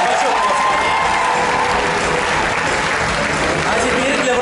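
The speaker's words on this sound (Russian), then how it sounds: "Наградим еще раз бурными аплодисментами обладателей." Loud, sustained applause from a large concert audience at a university gala concert, dense and steady clapping filling the whole clip.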